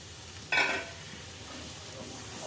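Tomato paste and a splash of water hitting a hot pan, a brief burst of sizzle that fades into a quiet, steady simmering hiss, close and alone.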